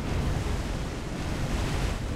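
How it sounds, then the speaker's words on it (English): Naval shell splashes in the sea in the War on the Sea video game, a continuous broadband wash of water and wind-like roar with no distinct individual impacts. "Wow, that was a lot of splashes."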